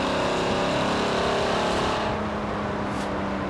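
A Mercedes CLK GTR in Forza Horizon 4 roars at high revs, its loud, dense engine drone holding steady before the pitch drops into a shift and a lower tone.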